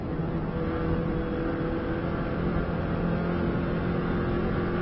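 A Subaru car engine holds a steady, loud drone in 6th gear at speed during an Isle of Man lap, a continuous muffled roar with no breaks.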